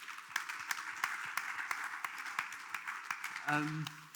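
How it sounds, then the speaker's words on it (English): An audience at a youth-focused panel event claps steadily in a faint, even round of applause that carries through to the end, with a voice briefly breaking in near the close. "let's just give them another round of applause"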